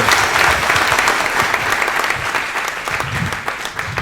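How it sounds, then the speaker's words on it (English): Audience applause at a tech conference keynote in Kochi, dense sustained clapping from a large crowd, loud and continuous for about four seconds with no speech over it. "Can we have a louder round of applause, please?"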